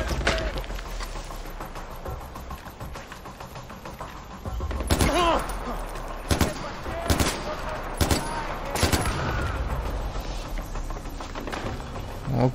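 Bursts of automatic gunfire in the video game Far Cry 4 rattle out in several loud volleys over a steady game background, with no talking.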